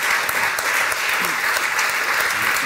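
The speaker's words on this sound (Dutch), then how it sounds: "Dat komt u allen toe, dit applaus." Loud, dense applause from a studio audience at a live interview show, continuous and even for the whole stretch with no pauses.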